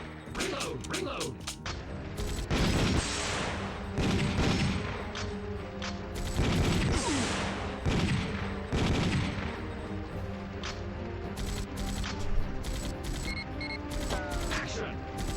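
Rapid arcade gunfire from Time Crisis, with bursts of loud overlapping shots and clattering mechanical effects that repeat in clusters over game noise, while a voice talks at points.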